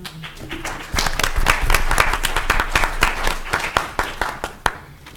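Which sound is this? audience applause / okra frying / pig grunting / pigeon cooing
audience applause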